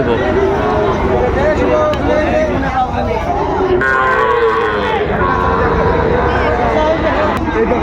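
Cattle, small bulls and calves at a Dhaka livestock market, moo repeatedly and loudly through constant crowd hubbub, with people talking nearby throughout.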